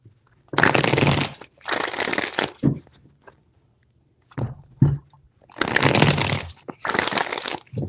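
Tarot cards are shuffled in several separate bursts of dense riffling and flapping, close and fairly loud, with brief quiet taps and handling sounds between the bursts and no speech.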